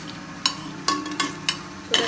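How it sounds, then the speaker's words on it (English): Chole masala sauteing with cinnamon in a pan over a medium gas flame, soft steady sizzle with several sharp scraping stirs of a spoon against the pan. "Keep the gas flame on a medium. Let this cook, saute for a minute"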